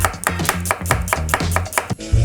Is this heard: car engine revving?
no